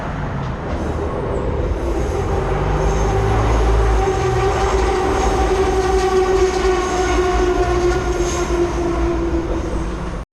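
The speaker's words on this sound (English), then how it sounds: "the train's just kind of running in and out of it" A Puerto Rico metro train running along an elevated viaduct, a loud, sustained rumble with tonal wheel and motor whine holding steady throughout before cutting off at the end.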